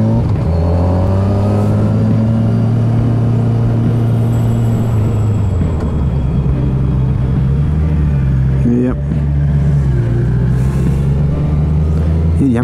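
A motorcycle on a mountain pass in the Pyrenees gives a loud, close, droning engine note that drops in pitch as it shifts down toward first gear, with wind rush over it.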